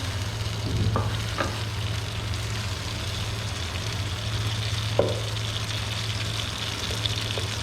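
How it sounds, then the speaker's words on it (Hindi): Tomatoes cook in a pan for Hyderabadi dum biryani, giving a steady, even sizzle under a low constant hum, with a few faint stirring scrapes and light knocks, close by and without talk. "एक मिनट के लिए टमाटरों को पका लेंगे ताकि ये थोड़े से सॉफ्ट हो जाएं।"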